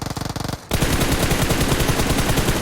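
Rapid automatic gunfire in the mobile battle royale game PUBG Mobile, loud and close, a short burst followed after a brief gap by a sustained stream of rattling shots.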